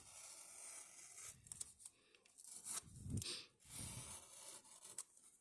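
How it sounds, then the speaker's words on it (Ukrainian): Material is cut quickly while a doll is being made, giving close, rough snipping and tearing noises in uneven bursts with short pauses between them, with no speech. "Тепер буду швидко різати."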